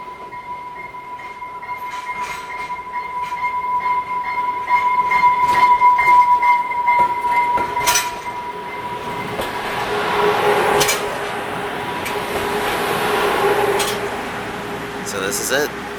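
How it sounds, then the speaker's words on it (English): An Amtrak Cascades Talgo Series 8 passenger train rolls into a station platform, its steady rumble and a high sustained whine building and fading over several seconds, with faint talk nearby. "This is the Amtrak Cascades. Talgo E8 series."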